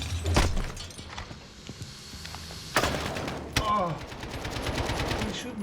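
Sharp gunshots and short automatic bursts ring out in a Call of Duty Modern Warfare match, scattered loud cracks and thuds amid game ambience, with a player talking over the action.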